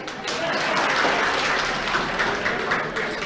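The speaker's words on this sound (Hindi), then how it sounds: "बजाओ ताली।" Students in a classroom break into a burst of applause, dense overlapping clapping that fills the room for a few seconds, with some voices mixed in.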